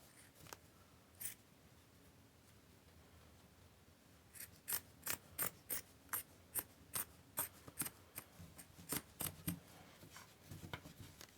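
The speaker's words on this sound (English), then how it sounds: "I'm going to cut straight across to about where the logo goes." Scissors cutting through a cotton T-shirt, faint at first, then a quick run of crisp snips in steady rhythm, close and quiet with no speech.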